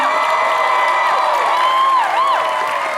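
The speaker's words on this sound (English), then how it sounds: "and another applause for our fabulous Elvira herself, Cassandra Peterson." A loud crowd roars and cheers continuously, with whoops rising above the din.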